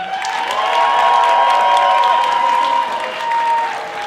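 A theatre audience of schoolchildren and adults cheers and applauds at a primary-school showcase, a continuous close wash of clapping and high-pitched shouting that swells and stays loud throughout.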